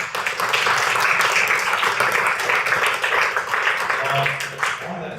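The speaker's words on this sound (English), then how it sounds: "so give her a round of applause" Audience applause for an event organizer at a product management meetup, a steady round of clapping from a modest crowd lasting several seconds, with some voices mixed in.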